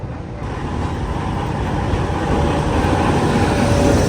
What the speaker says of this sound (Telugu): మన heritage metre gauge passenger train అయితే వచ్చేస్తుంది